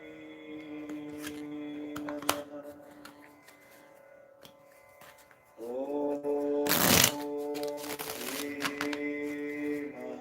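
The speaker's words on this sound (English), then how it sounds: "Let me shuffle this up." Two quick riffles of shuffled tarot cards, close and crisp, over steady background music.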